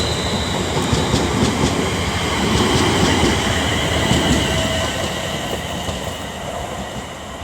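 A train rolls past at a WCML station platform at Milton Keynes Central, a loud continuous rumble with repeated rhythmic thumps from flat wheels and clattering over the rails, close by with no voices.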